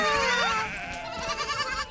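Several goats bleat close by in wavering, overlapping calls, some long and some short, with faint farmyard background.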